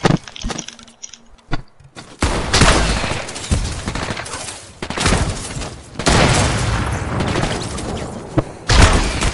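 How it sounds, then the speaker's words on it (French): Rapid bursts from a new submachine gun in a video game, loud and dense, with several clusters of shots separated by brief quieter gaps. "C'est le nouveau pistolet mitrailleur."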